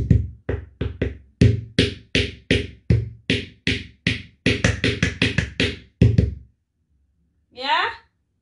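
Repeated knocks on a calabash during a dance lesson, a long run of sharp hollow thunks in steady groups, close and loud, ending in a short pause and a brief voice.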